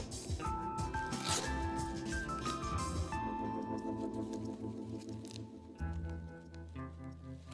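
Zipper on the modular back panel of an MSA Paraclete vest, a close, busy ratcheting rasp with scuffing fabric that carries through a layer of background music, with no talking.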